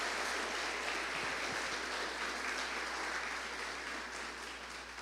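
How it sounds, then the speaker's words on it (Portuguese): Church congregation clapping for God during a service, a steady dense wash of applause running evenly throughout with a low hum underneath. "As palmas é para o nosso Deus."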